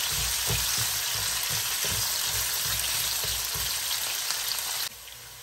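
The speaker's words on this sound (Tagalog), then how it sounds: "Ayan, gisa-gisa lang po natin siya." Potato pieces sautéing with black pepper in a hot pan give a steady, close sizzle and crackle that stays even throughout, then drops suddenly near the end.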